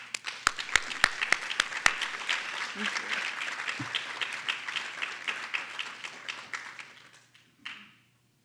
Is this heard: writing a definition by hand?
no